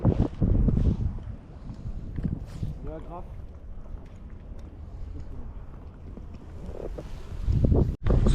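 Gusty wind buffets the microphone in low rumbling bursts, strongest at the start and end, with brief sounds of movement on water between.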